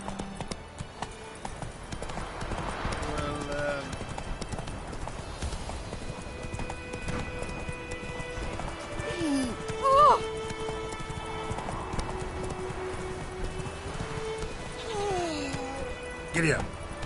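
Horse hooves clip-clopping at a steady gallop in the video game Witcher 3, with a brief neigh partway through, over game music and ambient sound, while a voice speaks at moments.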